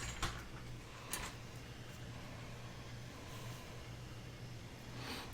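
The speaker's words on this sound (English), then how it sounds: "I'm just going to do probably a zigzag stitch to stitch around this." A sewing machine runs a zigzag stitch around a paper notebook pocket, giving a quiet, steady mechanical whir with faint ticking and a couple of soft knocks at the start.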